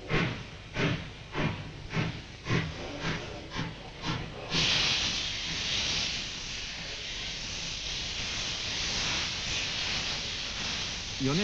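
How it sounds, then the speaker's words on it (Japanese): A JNR 9600 series steam locomotive hauling a short passenger train on the Yonesaka Line lets out loud exhaust chuffs in a steady rhythm, then breaks into a continuous loud hiss of steam, with a voice speaking over it. "今蒸気機関車9600は短い客車を引いて山越えに挑む。"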